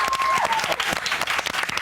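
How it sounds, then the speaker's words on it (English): A studio audience claps for a children's television show, producing a short burst of brisk applause heard close and dense, with a brief whistle-like tone at the start. "OK, this deserves a huge round of applause."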